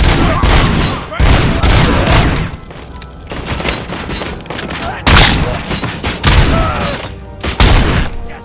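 Dense, loud gunfire from the video game Robocop: Rogue City, a sustained barrage of rapid shots and booms that continues almost without pause, with voices shouting over it.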